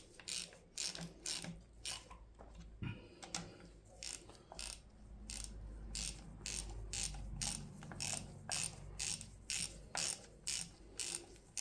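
A hand ratchet snugs down bolts on the lower timing chain of a 1500hp-capable engine build, clicking in repeated quick bursts with short pauses between strokes, close and fairly loud with no talking.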